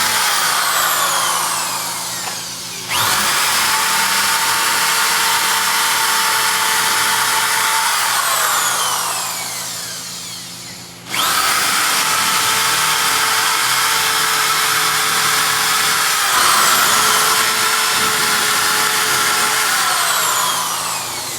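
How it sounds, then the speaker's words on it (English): A power drill bores holes for attachment screws, whining loudly and steadily up close in two long runs with a short pause between them, its pitch sagging slightly under load. "Now we can go ahead and finish drilling everything."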